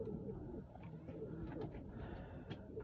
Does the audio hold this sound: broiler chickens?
no